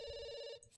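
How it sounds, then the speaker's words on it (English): Telephone ringing in The Sims 2 video game, a single faint electronic ring tone held briefly before cutting off. "can you answer that phone?"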